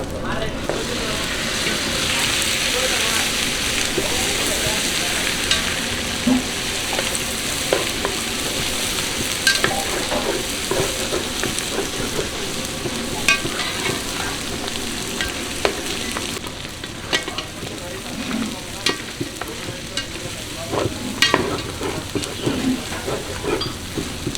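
Onions, green chillies and ginger paste fry in hot oil for goat head curry, sizzling loudly and continuously, with frequent clatter from stirring throughout.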